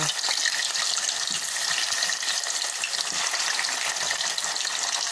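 Half a yam's worth of cut pieces sizzling in a shallow layer of hot cooking oil, a steady dense crackle and hiss close by with faint stirring, no one talking.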